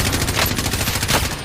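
Rapid automatic gunfire in the battle royale video game Call of Duty Warzone, a fast, steady burst of shots heard loud and close for a brief moment.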